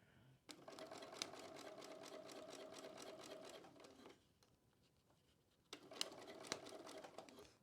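Bernina B590 sewing machine stitches a straight seam through sticky plastic fabric, a rapid steady mechanical whirring close by in two runs separated by a short quiet pause, with no talking.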